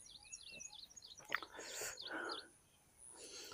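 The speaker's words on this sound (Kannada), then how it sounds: "ಬೆಳಿಗ್ಗೆ ಎದ್ದ ತಕ್ಷಣ ಪಕ್ಷಿಗಳ ಸೌಂಡ್ ಕೇಳೋಕ್ಕೆ ಸೂಪರ್" Faint morning bird chirps repeating in the background beside a field, with soft rustling, a sharp click and breathy noise partly covering them.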